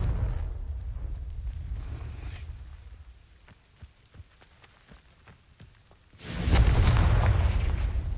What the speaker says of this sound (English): These dry vines are one spark away from becoming kindling.